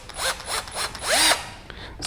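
Bosch GSR 120 Li 12V cordless drill driver driving screws, with several short rising whirs of the motor in quick succession and one longer burst near the end, close and fairly loud with no talking.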